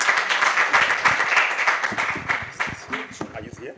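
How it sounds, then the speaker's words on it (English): An audience at a university innovation pitch day applauding a presenter, a sustained crowd of claps that thins out toward the end, with some voices mixed in. "A round of applause, please."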